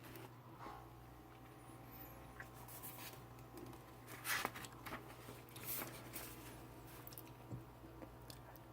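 Gum chewed close to the microphone in a quiet ASMR setting, soft wet squishing and clicking mouth sounds in an irregular rhythm over faint steady hum, with no talk.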